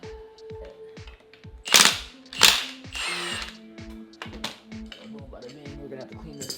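A ratchet loosens bolts on a Mazda Speed6 engine during a timing job, rapid clicking pawl bursts up close, interrupted by a couple of sharp metallic knocks, with a person speaking over the work.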